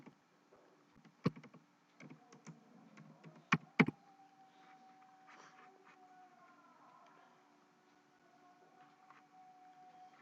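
Keys on a computer keyboard tapped in short irregular bursts, a few louder clicks among quieter ones, then a faint steady hum carries on as the typing thins out.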